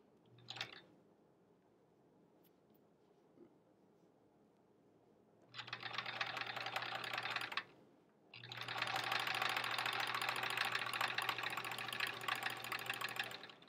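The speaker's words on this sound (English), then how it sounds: "I'm going to sew on either side so I don't have any waste." A sewing machine stitches fabric into half square triangles, running in two quick bursts of rapid, even whirring with a quiet pause between, after a soft click at the start.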